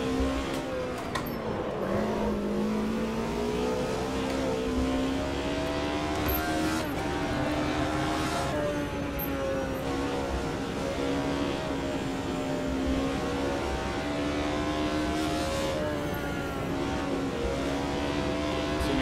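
A racing car engine in a sim-racing game, a continuous loud drone rising and falling in pitch as the throttle is eased on and off, alone without talk.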